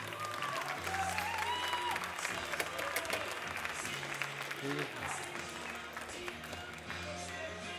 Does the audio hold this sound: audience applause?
yes